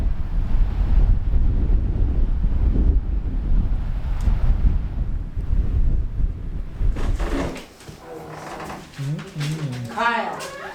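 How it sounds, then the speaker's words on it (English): Steady wind buffets the microphone on the Arctic Ocean shore, a loud low rumble for about seven seconds before easing, with a voice speaking faintly toward the end. "The ocean has calmed down a little bit. Still a little windy."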